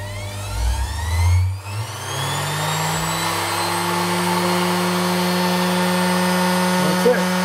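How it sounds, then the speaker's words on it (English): A Ferrex mini bench grinder motor whines as it spins up from its minimum speed setting, its pitch rising steadily over the first few seconds and then holding at a high, constant hum. "as soon as you turn it on, it starts up slowly because I've got the speed dial set down to minimum"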